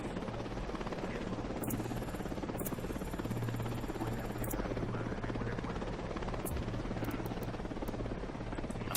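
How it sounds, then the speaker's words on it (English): A drone in the video game Ghost Recon Wildlands whirs steadily and loudly throughout, a dense rotor buzz with a few sharp high clicks over it. "Drone."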